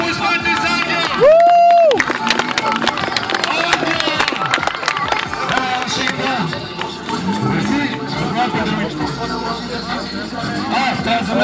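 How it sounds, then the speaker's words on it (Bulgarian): A crowd at a lively gathering applauds and cheers, scattered claps and shouts rising in bursts while people talk loudly over the noise and a brief tone sounds near the start. "Аплодисменти за Ангел!"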